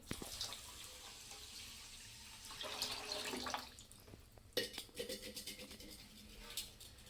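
Water splashes and pours from a one-litre copper pot into a pan of sugar at close range, a soft gushing stream followed by some clinks and handling sounds.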